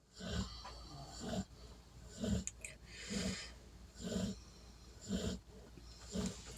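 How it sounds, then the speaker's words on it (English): Slow, heavy snoring breaths repeat about once a second, each a rough snorting rasp, close and fairly quiet with no talking. "I know you guys hear Daisy snoring down there."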